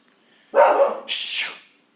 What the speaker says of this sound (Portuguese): Ai, eu tô com um cachorro novo aqui.